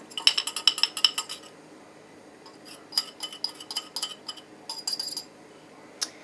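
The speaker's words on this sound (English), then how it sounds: "I'm just mixing it together with my whisk." A metal whisk clinks rapidly against a bowl while mixing sugar and pectin for spearmint jelly, with quick bursts of tapping and scraping separated by brief pauses.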